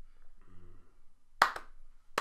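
A few sharp hand claps land irregularly near a roller derby show's pantomime segment. They come as two quick claps, then a lone one after a pause, over a low, quiet background with no talking.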